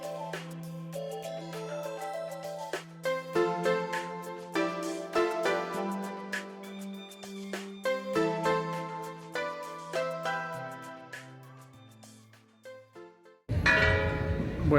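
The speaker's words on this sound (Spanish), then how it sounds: "estaban sonando ahorita las campanas de la iglesia llamando a todos los feligreses para que entren a la iglesia de Nuestra Señora del Rosario" Church bells ring out at the Church of Our Lady of the Rosary in Villa de Leyva, a long run of loud, resonant strikes in an irregular peal that ends with a burst of broadband noise.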